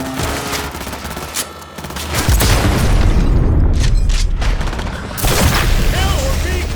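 Heavy gunfire in the video game Cyberpunk 2077 roars in loud, sustained volleys mixed with deep booming impacts, dense and close throughout, with a voice briefly audible amid the shooting.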